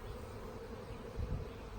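A honeybee buzzes close by around a nucleus hive, a steady low drone with a brief louder swell near the end over outdoor background noise.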